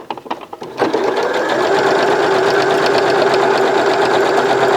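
A sewing machine stitches a buttonhole, a few short clicks of the lever before the motor starts up and runs at a steady loud whirring buzz close by.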